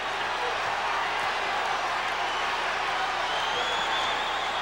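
A basketball arena crowd at a Lakers–Celtics game roars in a steady, loud wash of cheering and applause, with a commentator's voice faintly under the noise.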